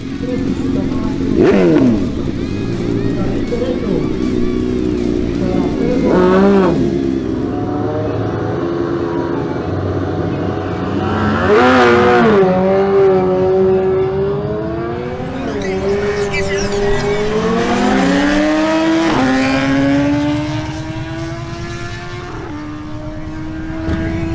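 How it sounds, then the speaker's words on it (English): Yamaha MT-10 and BMW S1000R motorcycles drag racing over a quarter mile in Barranquilla, engines screaming through rising gear-by-gear sweeps, loud and close, with a commentator talking over the runs. "We begin with a duel between Mauricio Diaz's Yamaha MT-10 and Pedro Infante's BMW S1000R"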